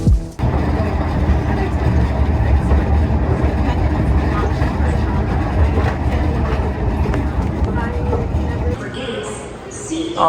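An airport tram rides between terminal gates, its steady rumbling rolling noise filling the space loudly for most of the ride before easing near the end.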